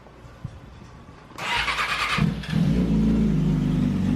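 A Yamaha R6 sport motorcycle with a 2019-style conversion cranks with a whirring starter, catches, and settles into a loud, steady idle heard up close.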